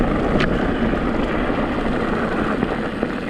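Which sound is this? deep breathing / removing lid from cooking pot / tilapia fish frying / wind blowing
wind blowing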